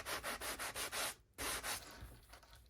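Sandpaper rubs over wooden edges to distress them: about eight quick, steady back-and-forth strokes, a brief pause, then more strokes fading into lighter scuffing, close and alone.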